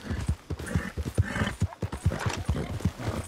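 Horse hooves clip-clop in a quick, even rhythm, with whinnies mixed in, from a horse in the video game Red Dead Redemption 2, close and clear throughout.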